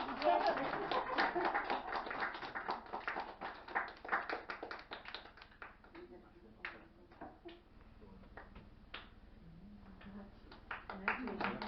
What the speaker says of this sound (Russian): Какая бурная аплодисменты.